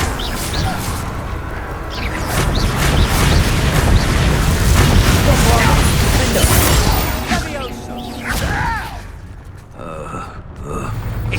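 Fiery Confringo spell blasts in the Hogwarts Legacy video game, dense booming bursts and crashes in a loud continuous battle mix, with a voice calling out over the din.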